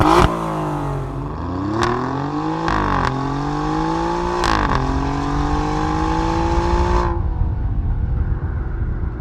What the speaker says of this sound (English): here's what the titanium exhaust sounds like for the regular Quadrifoglio